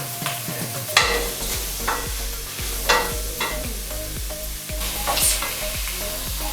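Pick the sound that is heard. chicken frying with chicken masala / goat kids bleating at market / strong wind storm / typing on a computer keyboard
chicken frying with chicken masala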